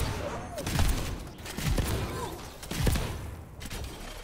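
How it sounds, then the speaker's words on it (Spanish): Several dull booms and thumps go off at irregular intervals, explosions from Venture's weapon in Overwatch 2, over a busy background. "Lo que no sabía es que esto tenía explosiones."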